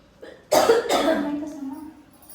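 A single loud, close cough followed by a second rougher cough trailing off into a breathy exhale, with nothing else around it.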